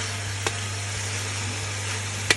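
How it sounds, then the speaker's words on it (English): Mutton searing in a hot pan over high heat: a steady, close frying sizzle with two brief sharp crackles, and no voices. "there's a sound of searing. Exactly what you want to hear when you dip in your mutton."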